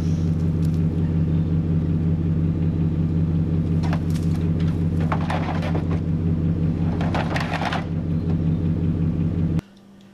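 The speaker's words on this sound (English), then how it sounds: "I'm going to go out here and get my truck and pull in here and get her loaded up" A pickup truck engine idles and rumbles steadily at close range outdoors after a deer hunt, with a low droning hum and some rattling as it moves, cutting off abruptly near the end.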